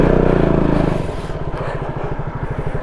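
A motorcycle engine labours loud and close on a sandy, stony road, pulsing hard at first and then dropping to a lower, uneven chug as the wheel bogs down.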